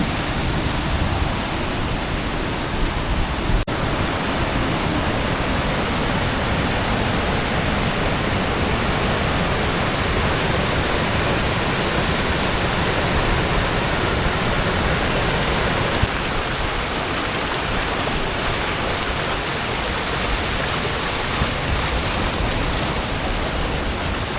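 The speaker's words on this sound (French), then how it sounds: "je quitte les cascades de Détifos et Selfoss" The Dettifoss and Selfoss waterfalls in Iceland roar as a steady, dense rush of falling water, loud and unbroken throughout, with no voices.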